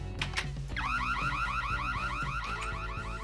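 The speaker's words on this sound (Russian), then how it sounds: "Сигнализация!" An alarm siren in the Minecraft prison-escape map The Escapists 2 wails continuously in rising sweeps with rhythmic low pulses underneath, loud and steady with no talking.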